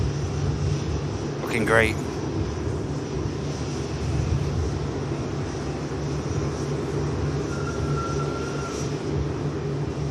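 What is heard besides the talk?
airliner on the Delhi flight at Manchester Airport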